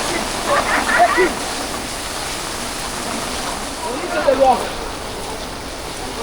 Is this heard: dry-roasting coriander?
no